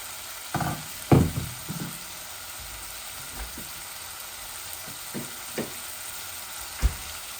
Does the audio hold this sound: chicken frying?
yes